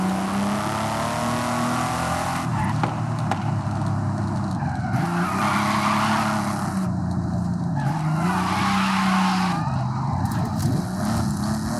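A Porsche 911 Carrera RS in the video game Forza Horizon 5 drives with a steady engine drone that rises and falls through gear changes, overlaid with repeated loud tire squeal and skidding.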